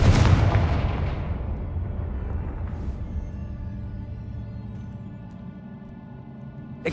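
A Confringo blasting spell erupts in Hogwarts Legacy with a loud booming explosion that rumbles out and slowly decays into a long fading tail.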